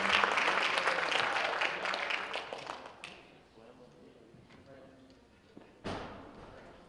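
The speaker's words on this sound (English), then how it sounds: "If we could just give him a round of applause" Audience applause at a superintendent's awards ceremony for a student honoree, a loud burst of many hands clapping that fades over about three seconds, followed by quiet room noise and a sharp thump near the end.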